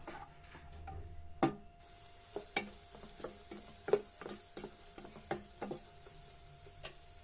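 An egg frying in a pan with ginger for egg fried rice gives a soft, steady sizzle. Irregular close taps and scrapes of a spatula against the pan cut through it, and no one speaks.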